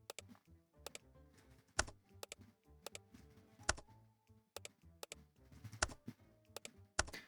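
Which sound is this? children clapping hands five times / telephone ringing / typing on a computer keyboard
typing on a computer keyboard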